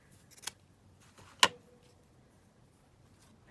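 Two quick crisp snips of scissors cutting lace for envelope decoration, close and fairly quiet, separated by about a second of near silence.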